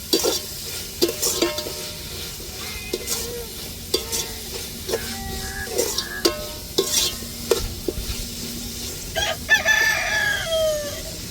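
Ginger garlic paste sautéing in a pan, steady sizzling with repeated spoon scrapes and taps, while roosters crow and chickens cluck nearby in the background.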